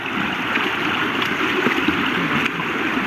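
Rushing river water surrounds a crossing on foot, a steady broadband wash of flowing current heard up close, continuous and fairly loud throughout with no talk.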